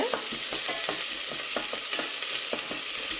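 Onion fries in oil in a pan with a steady loud sizzle, while a utensil scrapes and stirs in repeated strokes close by.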